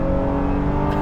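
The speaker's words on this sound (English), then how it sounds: "I'm always surprised how much engine noise pops into the cabin" A 2023 Honda Pilot Trailsport's engine pulls hard at full throttle, heard from inside the cabin as a loud, steady, droning growl with a strong tonal hum and no speech.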